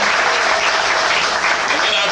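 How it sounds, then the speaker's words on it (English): An audience gives a loud, dense round of applause for a spoken word performer, continuous clapping close and full throughout the short stretch. "Give this brother a round of applause."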